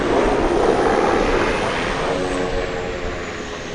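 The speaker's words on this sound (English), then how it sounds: "get back to that United jet, that A320. As it heads off to the city" A United Airlines A320 jet takes off at night at DFW Airport, its engines a loud, broad, continuous roar that slowly eases as it moves away, with no talking.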